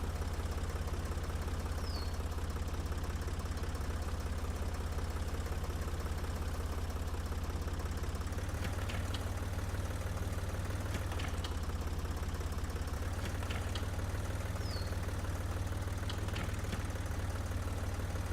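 A tractor engine in the video game Professional Farmer 2014 runs steadily, a constant low droning rumble with a faint knocking texture and occasional small clicks, continuing unchanged throughout without voices.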